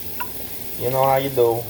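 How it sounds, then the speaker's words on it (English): Eggs whisked in a hot frying pan while making a burrito, a soft sizzle with a short scraping stir, and a voice speaking briefly over it. "Just give that a little whisk in the pan."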